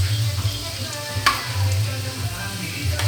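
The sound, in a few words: carrots and potatoes being stirred and fried in a pan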